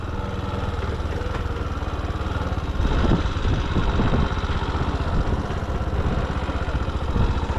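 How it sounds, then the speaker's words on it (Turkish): A motorcycle engine idles steadily in second gear on a motorcycle licence exam course. It gives a close, continuous low throbbing rumble that swells slightly midway, with no speech. "Bu, bu şekilde motor kendi rulantisinde devam ediyor."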